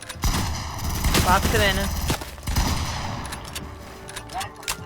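Bursts of rapid gunfire from a box-fighting shooter video game crackle loudly and close, with sharp repeated shots spread through the clip while a player talks over them.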